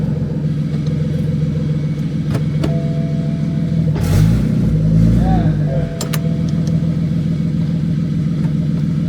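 A BMW F80 M3 with a swapped N54 engine pulls hard through the gears, its steady mid-range drone rising and dropping at each shift, close and loud, with a person talking over it.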